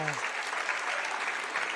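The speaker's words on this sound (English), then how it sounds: "Nice round of applause to the seniors" Sustained audience applause at a high school Senior Night wrestling meet, Timberlane versus Pinkerton, filling the gym evenly and continuously with dense clapping throughout.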